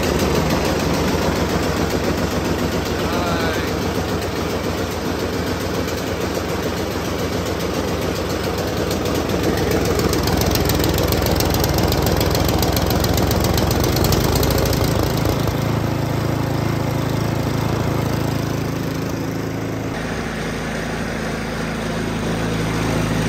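A Toro snowblower's engine fires up and runs, a loud, close, continuous rapid chugging and clattering roar that holds for over twenty seconds, shifting pitch slightly partway through, with no talking.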